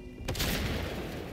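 Gunfire in Warhammer 40k: Space Marine 2, a sharp blast followed by a dense rattling fusillade of shots with a rumbling tail, moderately loud and heard without talk.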